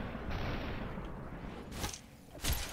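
A burst of AK rifle fire crackles in the slow-motion shooter game SuperHOT, a rough rattling volley followed by a couple of sharp, separate shots near the end.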